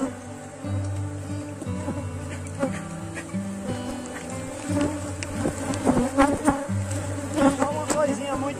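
Honey bees buzzing thickly around a freshly split hive colony, a dense, steady hum close by with individual bees droning past, plus occasional knocks and handling noises, no clear talking.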